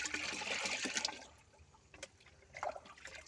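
Water poured from a bucket into a garden plant container, a splashing, trickling pour that is loudest at first and then thins into fainter dribbles and a few late splashes.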